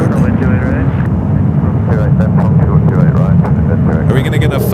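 A British Airways Boeing 777 arrives at San Francisco International Airport, its loud, steady jet roar rising and filling the scene while people talk over it.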